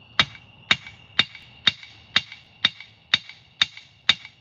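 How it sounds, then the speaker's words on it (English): A 1-pound hammer strikes quarter-inch round bar on a forge anvil, flattening it at an angle: nine sharp, evenly spaced ringing blows, close and loud, with a metallic ring after each hit. "and hammer at an angle"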